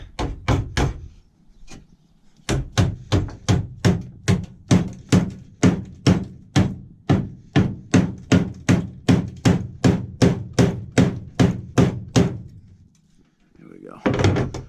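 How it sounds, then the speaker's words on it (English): A hammer bangs a rusty body panel straight on a Ford F350 7.3, in about twenty-five close, loud metallic blows at a fast, even rhythm. There is a brief pause after the first few strikes and another near the end. "let's see if I'm able to bang this kind of straight."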